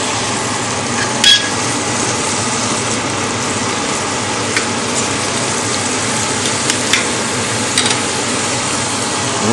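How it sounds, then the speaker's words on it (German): Slices of ordinary Black Forest ham bacon fry in a pan, giving a steady, dense sizzle with faint crackles and the odd pop, continuous and fairly loud, without talk. "Dann wird der Speck angebraten."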